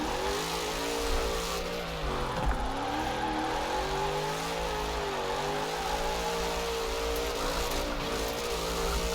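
Race car engine in Forza Horizon 4 on a sim rig, revving steadily with pitch sweeping up and down as RPMs rise and fall on a hilly mountain road, loud and continuous with no talk.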